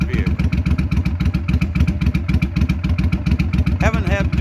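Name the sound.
engine of 21-year-old vehicle running, choke held open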